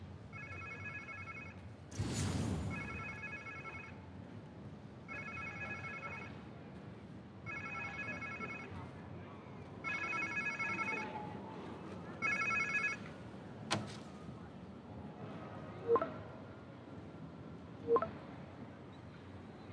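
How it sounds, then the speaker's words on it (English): A phone rings in the Spider-Man 2 video game, a repeated electronic ring in evenly spaced bursts, about six of them, followed by a few brief clicks and tones in a quiet scene. "Sounds like somebody's phone"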